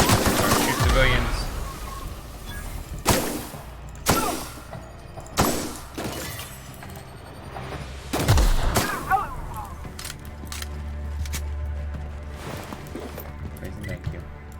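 Gunfire in The Outer Worlds, with several sharp, loud bursts spread across the stretch, some rattling like automatic fire, over steady background game sound and a low hum, with voices at times.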